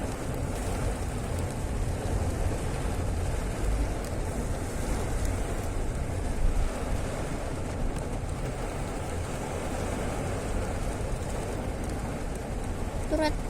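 Heavy rain in Surabaya heard from inside a car, a dense steady wash of drumming and road rumble with wipers splashing, continuous and fairly loud throughout.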